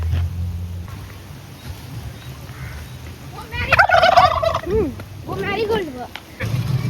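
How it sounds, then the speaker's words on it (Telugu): A duck calls outdoors at a resort in Anantapur: a burst of loud, raspy, quacking calls in the middle, close by, over steady background noise and a person talking. "ఇక్కడ చూడండి, వావ్, డక్. Hi duck."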